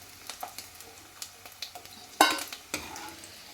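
Dried fish frying in oil in a pan, a soft sizzle with scattered crackles and spatters, one louder burst of popping near the end, fairly close and with no talk over it.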